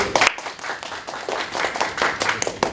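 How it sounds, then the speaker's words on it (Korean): An audience at a cloud and Kubernetes tech conference claps after a talk: a short, lively burst of many hands with uneven, crisp individual claps close by. "좋은 발표 해주신 두 분에게 박수 부탁드립니다."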